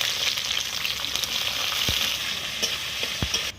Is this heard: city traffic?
no